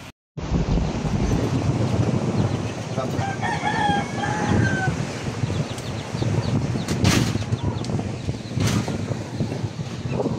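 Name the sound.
strong wind by the sea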